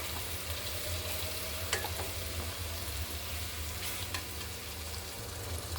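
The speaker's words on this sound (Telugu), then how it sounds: "బాగా కొంచెం ఫ్రై అవ్వాలి." Gongura leaves, onion and garlic fry in hot oil for a preserved pickle, giving a steady, even sizzle throughout with a few faint spatters and stirring clicks, close by and with no voices.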